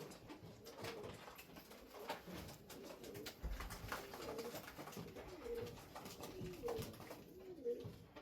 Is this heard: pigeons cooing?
yes